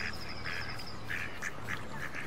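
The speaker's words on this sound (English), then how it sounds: "Actually, I do love that quacking sound." Ducks quack repeatedly in Farming Simulator 22 on the Alpenhill map, short clustered calls over a steady ambient background, moderately loud with no talking.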